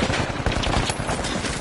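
Rapid automatic gunfire empties a full magazine in the shooter game The Finals, a dense, loud, unbroken burst of shots packed closely together for the whole stretch.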